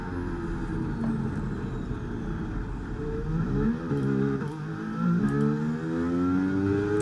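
An F1 car in F1 23 accelerates hard out of a corner, its engine whining up through rising pitch sweeps and gear changes, loud and close for several seconds, with no voices over it.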